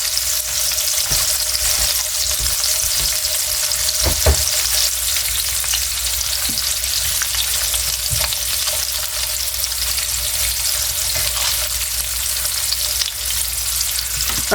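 Food fries in a pan at home, a steady close sizzle and crackle with occasional sharper pops and scraping, no voices.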